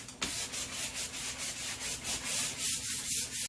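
Sanding-like rubbing as kitchen beadboard is roughed up with liquid sandpaper deglosser, a steady series of close scrubbing strokes in regular back-and-forth rhythm, alone without talk.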